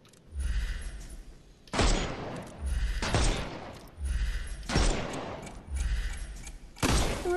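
Gunfire in the Sherlock Holmes Chapter One video game, several loud booming shot bursts at a steady pace, each with a heavy low thump and a short decay, with no voices over them.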